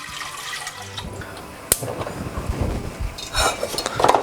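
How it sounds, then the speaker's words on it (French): Liquid splashes and trickles into a metal saucepan after a sharp clink, with light clatter of cookware close by. "Donc tu verses ça dans une casserole."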